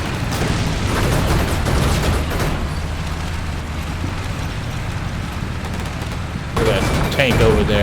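A tank is hit in Combat Mission Black Sea, a heavy boom within a rumbling barrage of explosions and gunfire across a battlefield. A voice talks over it, then a sharper burst breaks in near the end.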